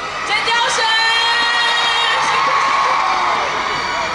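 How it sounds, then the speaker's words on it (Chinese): A large crowd at an outdoor Christmas concert in a city-hall plaza screams and cheers continuously, loud and dense, with high-pitched whoops and shouts throughout. "你们尖叫声，我觉得要 尖叫声！"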